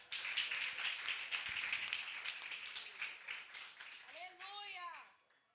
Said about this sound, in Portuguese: Aplauda bem forte.